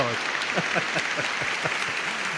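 Applause on a podcast, a steady patter of clapping running the whole time, with a voice speaking intermittently under it.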